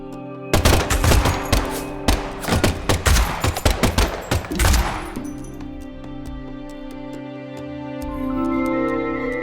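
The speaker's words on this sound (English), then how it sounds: "the last gunshot we heard sounded ominous" Rapid bursts of gunfire ring out in the video game Deadly Premonition 2, a dense stretch of loud repeated shots over several seconds before giving way to a lingering tonal drone.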